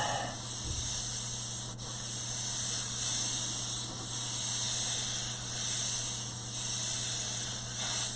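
Aerosol primer is sprayed onto a substrate in a steady hiss, broken into several pulses with short pauses between passes, fairly close and with no talk over it.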